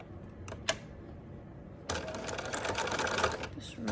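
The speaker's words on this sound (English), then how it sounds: "now I'm going to top stitch along this edge" Sewing machine running steadily while top stitching right along a folded, pinned fabric edge on a small sample for a flat-fell seam, starting after a few faint clicks and continuing as a close, even mechanical whir to the end.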